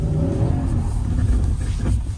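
Harley-Davidson 2022 CVO motorcycle engine rumbling loudly up close as the bike is parked, a deep steady idle with slight throttle swells.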